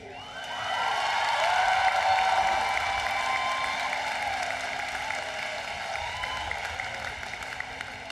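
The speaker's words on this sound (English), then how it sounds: "Give her another round of applause." Warm applause from a large commencement audience at the University of Maryland 2024 ceremony honoring the university medalist, swelling quickly and holding steady with faint cheers over a sustained tonal hum.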